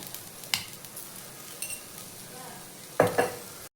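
Sweet corn chivda roasting in a pan, stirred now and then: a few distinct scraping strokes at intervals over a soft steady sizzle, close and moderately loud, with no voices.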